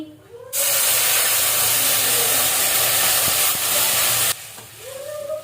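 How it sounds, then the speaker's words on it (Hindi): Water poured into a hot pan with sugar gives a sudden loud hiss and sizzle that holds for several seconds, then drops back to a quieter bubbling. "इसके बाद मैं डाल दूंगी इसमें पानी"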